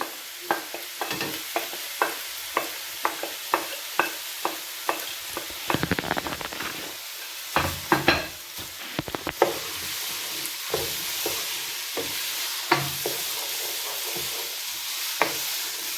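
Carrots and peppers fry in a pan with a steady loud sizzle throughout, broken by regular scraping clicks of stirring, close by and with no talking.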